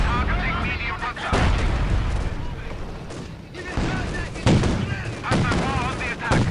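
Panzer IV tank fire in the Company of Heroes 2 video game booms loud and often through a continuous battle soundscape of gunfire and explosions, with little pause between blasts.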